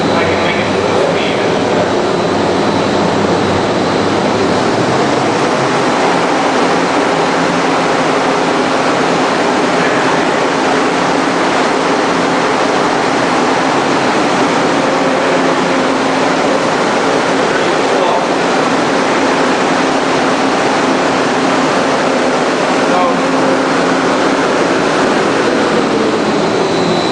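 A wind tunnel runs in a fluid mechanics lab, giving off a loud, steady broadband roar like rushing air, unbroken for the whole stretch with a faint low hum beneath.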